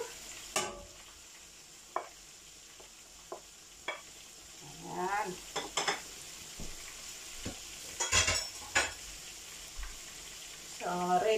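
Vegetables stir-fried into pansit canton in a pan, with intermittent sizzling and scraping stirs near at hand amid a faint background hum, and brief bursts of activity throughout.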